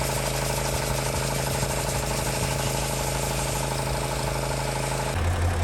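A heavy engine runs steadily at a low, droning idle, loud and close, its pitch dropping slightly near the end.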